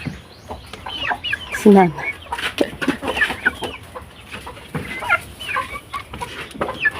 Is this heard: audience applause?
no